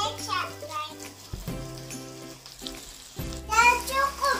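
Nasi goreng fried rice is stirred in a hot pan, giving a soft sizzle and scraping under a voice and background chatter, with louder frying noise near the end.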